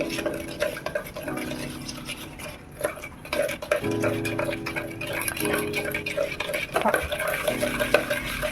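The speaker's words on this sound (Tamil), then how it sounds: "இந்த மெல்ட் பண்ணி வச்சுருக்க இந்த சாக்லேட் இதிலே இந்த சுகர் இதில் எல்லாமே போட்டு நல்லா மிக்ஸ் பண்ணணும்." Melted chocolate and sugar being stirred together for brownie batter, a steady scraping and clinking of utensil against a bowl with background kitchen noise throughout.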